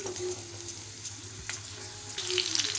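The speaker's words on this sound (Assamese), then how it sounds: "এতিয়া মই ইয়াত কাটি ৰখা পিঁয়াজখিনি এড কৰি দিম" Chopped onions hit hot oil already holding cloves, cardamom and cinnamon, setting off a steady close sizzle with light stirring scrapes that swell toward the end.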